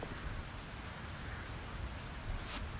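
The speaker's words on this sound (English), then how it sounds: "Rain was never like this in the city." Steady rain falling in the farming game Fields of Mistria, a dense even hiss of drops hitting surfaces, continuous and fairly loud with no voices.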